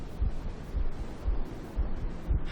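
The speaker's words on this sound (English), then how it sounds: "heartbeat sounds in the background" Heartbeat sound effect from the video game Myst III: Exile, faint, low, steady thuds repeating about every half second against a soft background hum.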